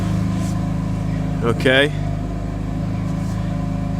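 A 2017 Java Green BMW M3 with a titanium exhaust warms up at idle, giving a steady, close, rumbling drone throughout, with a brief spoken word over it midway.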